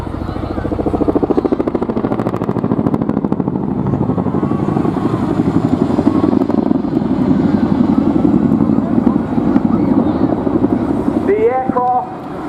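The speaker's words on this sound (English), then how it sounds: "it's my absolute pleasure to introduce the Royal Air Force 2023 Chinook display team" A Royal Air Force Chinook helicopter flies a display at an airshow. The loud, continuous thudding of its rotors holds throughout, with a commentator's voice heard over it and a short chirp near the end.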